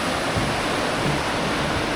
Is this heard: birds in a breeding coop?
no